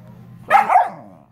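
A single short, sharp dog bark sounds close and loud over a quiet hum, then fades quickly.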